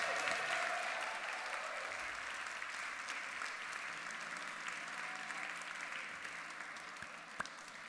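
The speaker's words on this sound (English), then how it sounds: "let's have a big round of applause for our fantastic band" A university awards evening audience applauds a band, a sustained, even wash of clapping from a crowd that slowly tapers, with no speech over it.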